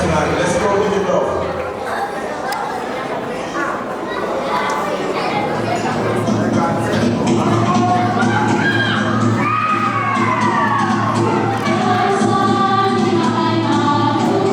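A crowd at a Samoan and Nigerian wedding cheers, shouts and whoops continuously and loudly, with children's voices and a voice on a microphone heard through the noise.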